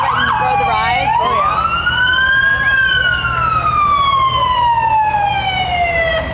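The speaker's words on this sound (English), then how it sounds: "Once we get the siren off." A DNR truck's siren wails loudly and close in a rodeo parade, sweeping up then slowly falling in one long rising-and-falling tone over steady crowd and engine noise.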